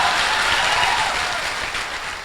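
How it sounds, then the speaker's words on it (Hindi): Applause from an audience of students, a dense steady patter of many hands clapping that stays even and tapers slightly toward the end. "तालियां हो जाए यार इनके लिए एक बार।"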